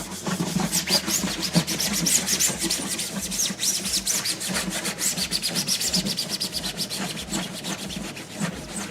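Model aircraft body being sanded by hand, a rapid rhythmic back-and-forth scratching rub that keeps going steadily at close range, no voices.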